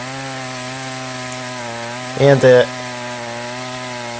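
A cheap $77.66 Chinese clone chainsaw cuts into wood outdoors, a steady droning engine running throughout with a brief louder surge of strain as the chain bites, close and loud, with a spoken word over it.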